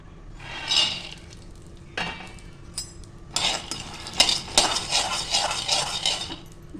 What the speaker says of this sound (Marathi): आता शेंगदाणे भाजून घेऊया आपण